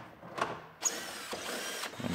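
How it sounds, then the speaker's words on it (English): Power tool unbolting a bumper bracket on a 2013 Buick Enclave, several short whirring bursts of an impact driver close by and fairly faint, separated by brief pauses, with no voices. "Unbolt our bumper bracket."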